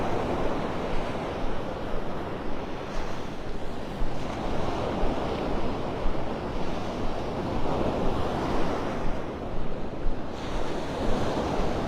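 Surf rolls onto Pelican Bay beach in Naples, Florida, under a steady gusty wind buffeting the microphone, a loud continuous wash of breaking waves with no voices.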